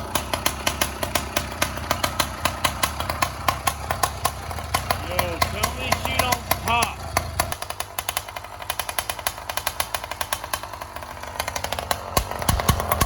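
A 110cc iron-sleeve two-stroke engine on a motorized bicycle runs loud and close with a rapid, rattling, buzzy chatter that settles into a lower idle partway through. A voice is briefly audible over it.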